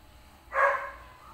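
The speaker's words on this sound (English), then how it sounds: "Did you hear a dog barking, Bella?" A single short dog bark sounds once at moderate distance inside a home, brief and clear against a quiet background.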